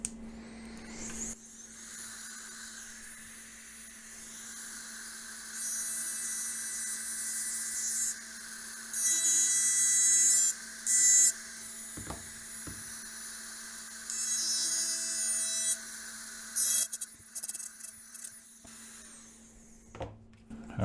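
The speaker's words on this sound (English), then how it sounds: "Let's use a straight carbide burr for this" A straight carbide burr in a high-speed rotary tool whines steadily, then grinds in bursts of harsh, bright chatter as it works a keyway in a 5C collet, close and loud, with pauses between passes.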